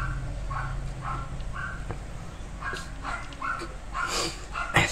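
Dogs bark outdoors in short repeated yips and barks, some whimpery, at a moderate distance over a low steady background hum, with several barks clustered near the end.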